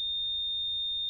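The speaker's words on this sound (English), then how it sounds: "we can hear the buzzer." A Crumble microcontroller distance-sensor circuit sounds its buzzer, a steady, thin, high electronic tone that holds unbroken for about a second, clear and close against a faint background hiss.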